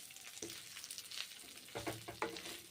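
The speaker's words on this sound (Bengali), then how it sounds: "মুগের ডালগুলোও ভেজে নিচ্ছি" Mung dal and broccoli frying in a pan, with a steady low sizzle broken by a few louder crackles and stirring scrapes near the end, no voices.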